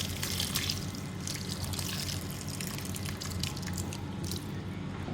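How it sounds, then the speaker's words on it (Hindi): Water from fresh chhena drains through a muslin cloth and strainer into a bowl, a soft, steady trickle with faint drips and small splashes, close and quiet throughout. "ताकि पानी नीचे निकल जाएगा"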